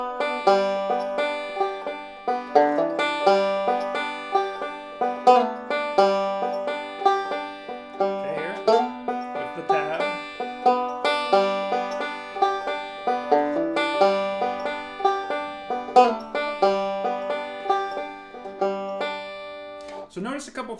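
Banjo melody picked in a steady forward-reverse roll, a continuous stream of bright plucked notes with rhythmic accents, played alone and close for about twenty seconds.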